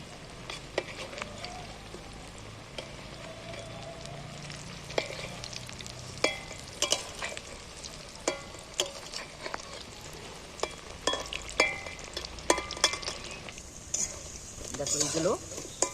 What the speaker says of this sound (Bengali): এবার বাকিগুলো একইভাবে ভেজে নিচ্ছি